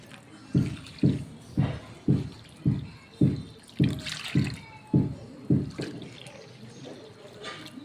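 Water poured from a small bowl into rice flour and semolina lands in a run of regular low splashing pulses, about two per second, close by and without talk.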